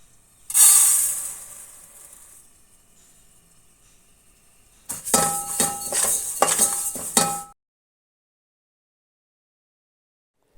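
Black sesame seeds roasting in a pan for sweet sesame candy: a loud burst of clinking, scraping stir noise with sizzling hiss at the start, a quieter stretch, then a second busy run of metallic stirring and clinks before silence.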